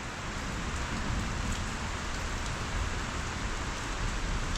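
Steady, heavy rain hisses down on surfaces nearby, a dense continuous patter with no voices.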